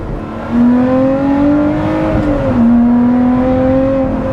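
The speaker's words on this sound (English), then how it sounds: "That exhaust note is something else." A Lotus Exige Sport 390 Final Edition engine revs and holds under load, its exhaust giving a loud, steady droning note that dips briefly as it shifts, then climbs again.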